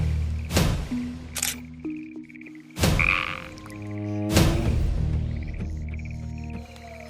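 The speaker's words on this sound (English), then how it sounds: "This is the golden poison frog." A golden poison frog of the Colombian rainforest gives repeated pulsed, trilling croaks, broken by a few sharp loud clicks, with no voices present.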